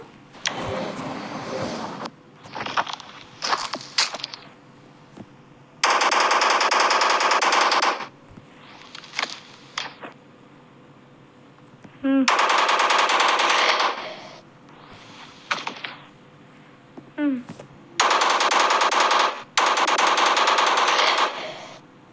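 Minigun fire in a mobile video game, heard as four long, loud sustained bursts of several seconds each, with quieter engine and game noise in the gaps between them.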